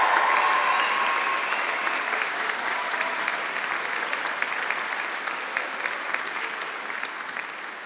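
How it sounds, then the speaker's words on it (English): Graduates at a university life sciences graduation ceremony applaud their families, a dense, sustained wash of clapping from a large hall crowd that slowly tapers off, with no voices standing out. "please, a big round of applause and cheers for the families at the back, your parents and friends, those who've really helped you."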